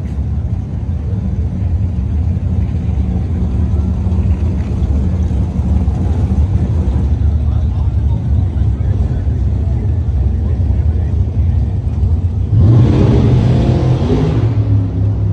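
A 1970 Pontiac GTO drag car at a drag racing event, its engine rumbling loudly and steadily close by, then revving up sharply near the end amid crowd noise.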